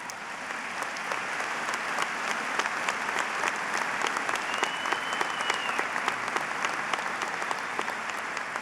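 A graduation audience applauding the Purdue class of 2010, dense sustained clapping from a large crowd filling the hall at an even level throughout, with no voices standing out.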